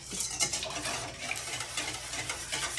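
Melted butter is stirred into wet cake batter ingredients in a bowl, giving soft, irregular scraping and sloshing strokes at close range.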